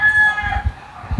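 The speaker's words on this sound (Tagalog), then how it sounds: "Sir Richard, pwede ba natin pakita yung mga manok mo dito?" Chickens and a rooster crowing in a backyard poultry setting, a single bright crow near the start fading out over soft clucking and scuffling, fairly close and brief.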